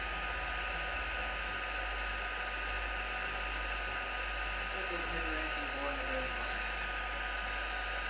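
An embossing heat gun blows a steady, even rush of hot air throughout, loud and close, with a voice speaking faintly beneath the constant hiss.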